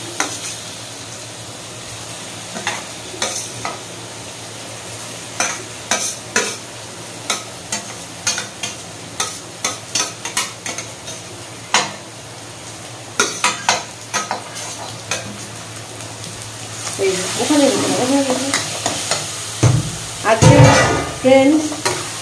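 Rohu fish stirred and fried in a thick spice paste, with repeated scraping stir strokes over a steady low sizzle that swells louder and busier toward the end.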